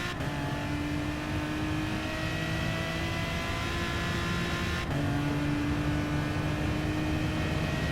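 An Aston Martin DBR9 race car engine revs in Gran Turismo Sport, a steady, moderately loud droning whine that climbs in pitch, with a gear shift midway before it rises again.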